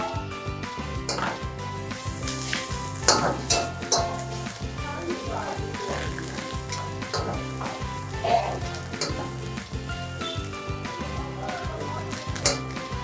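Pepper chicken frying in a pan with green chillies as curry leaves go in, a steady close sizzle with scattered clinks of utensils against the pan throughout.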